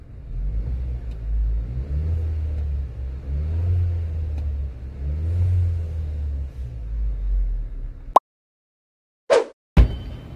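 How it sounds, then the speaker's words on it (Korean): Gasoline car engine idling while parked, a steady low rumble that runs close and even for about eight seconds and then cuts off, followed by a couple of brief sharp clicks. "차라리 파킹을 하고 한번 공회전을 한번 시켜보도록 하겠습니다."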